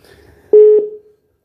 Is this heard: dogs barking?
no